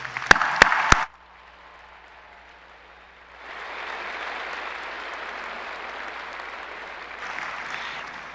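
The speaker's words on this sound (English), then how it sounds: "How about one more big round of applause for our pending graduates?" Applause breaks out at a high school graduation: a few sharp claps lead a brief burst, then a wide crowd claps steadily at a moderate distance for several seconds, swelling again near the end.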